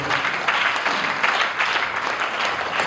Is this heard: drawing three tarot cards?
no